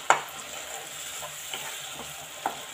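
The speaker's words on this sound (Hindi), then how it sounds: "हम इसे ऐसे हल्के हल्के हाथों से ऐसे फोड़ लेंगे टमाटर को" Tomatoes gently mashed with a spoon in a frying pan for a cabbage stir-fry, soft sizzling throughout with a few sharp utensil taps against the pan, close and alone.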